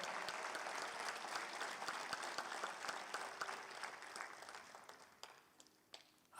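Applause from a church congregation at a Sunday service fills the room, a dense, sustained wash of many hands that gradually thins and fades toward the end with a few scattered claps.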